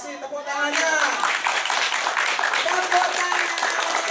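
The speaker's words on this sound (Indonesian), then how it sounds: "Ya, terima kasih, tepuk tangannya." Audience at a cultural training workshop applauding together, a dense steady clatter of many hands filling the whole stretch after a brief voice at the start.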